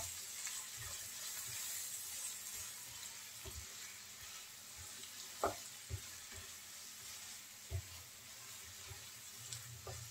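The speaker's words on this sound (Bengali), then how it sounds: "পেঁয়াজ মরিচের সাথে আমি চিংড়িটা ভালো করে ভেজে নিয়েছি।" Shrimp fry with onion and chili in a pan, making a quiet, steady sizzle with occasional soft utensil knocks, close but low in level and with no speech.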